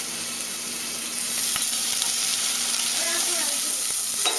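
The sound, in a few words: sliced onion and garlic frying in a pan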